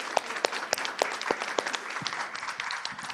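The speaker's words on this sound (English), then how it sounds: "un dernier applaudissement pour nos panélistes" An audience applauds the panelists at a bilingual youth storytelling workshop, a steady wash of many hands clapping at moderate distance that fades slightly toward the end.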